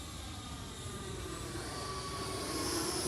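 An FMS Avanti 90mm electric ducted-fan RC jet on its maiden flight makes a gear-down pass, giving a steady broadband whoosh with a faint whine that slowly swells louder as it nears, and no voices.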